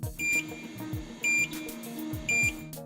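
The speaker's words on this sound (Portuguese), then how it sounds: "Um bip sonoro é acionado por 3 vezes" Three evenly spaced electronic beeps sound, high and clear, from a Slim Evolution II aesthetic equipment unit, over a faint low background hum.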